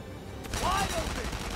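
Gunfire from the video game Valkyria Chronicles 4, a short burst of shots over a steady rumbling game backdrop with a faint whistling tone in the middle.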